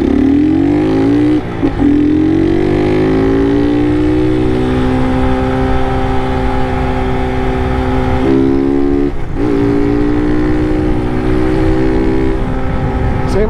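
A Honda Start 160 motorcycle with a tin-can exhaust revs loudly and close by, its engine note rising and holding in long sustained pulls with brief dips between revs, and no talking over it.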